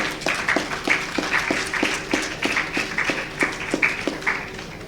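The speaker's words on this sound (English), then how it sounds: "I want you to clap yourself about that" A conference audience at a university research event in Jamaica breaks into steady rhythmic clapping, a sequence of roughly even claps close by with a faint murmur behind them.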